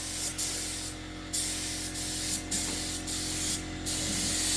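A paint spray gun lays clear coat over automotive paint outdoors in a backyard, with repeated hissing bursts separated by short pauses, close and steady, with no talking.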